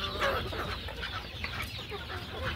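A desi hen on a poultry farm clucks softly while pecking at corn grains, a run of quick low clucks close by over a busy background of other fowl.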